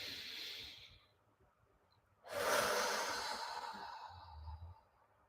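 A soft breath is followed by a longer, louder exhale during a calm group tapping circle. It is close and gentle, and no one speaks.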